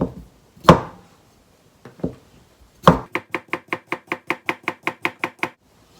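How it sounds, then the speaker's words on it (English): A knife slices cucumber on a board: a few separate cuts, then a quick, even run of about a dozen crisp chops, close and clear with no talking. "Then slice cucumber"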